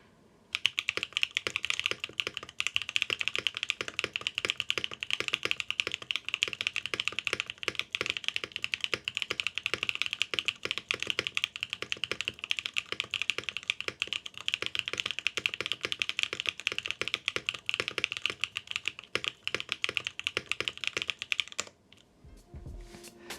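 Steady, fast typing on a Vertex Arc 60 mechanical keyboard with aluminum plate, Go Camping switches and NicePBT keycaps, a dense clatter of key presses continuing for about twenty seconds before stopping.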